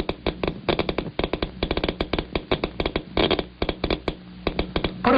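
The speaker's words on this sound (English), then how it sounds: "Each burst of current makes a clicking sound come from the speaker." A Geiger counter's speaker clicks rapidly and irregularly as it measures a polonium-210 radiation source, sharp close dry ticks in uneven bursts, some bunched into quick rattling clusters.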